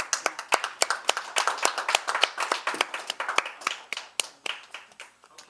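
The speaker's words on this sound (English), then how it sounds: "We'll give you another round of applause." A live improv theater audience applauds steadily, many hands clapping in a dense, lively burst that holds for several seconds before thinning slightly at the end.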